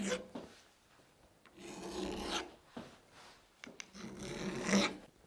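A file rasps along the edge of a ball peen hammer head to cut a chamfer during a restoration, in several slow, scraping back-and-forth strokes, close but quiet, with no voices.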